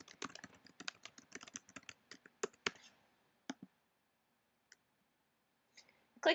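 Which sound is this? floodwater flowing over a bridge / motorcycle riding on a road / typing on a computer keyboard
typing on a computer keyboard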